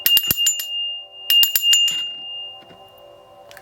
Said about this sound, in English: I'm going to ring the bell 3 times to ward off any left traces of negative influence.